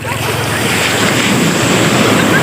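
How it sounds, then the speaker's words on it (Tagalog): Strong ocean waves crash and surge on Baler beach, a loud, continuous roar of surf with wind buffeting the microphone throughout. "Ang lakas ng wave!"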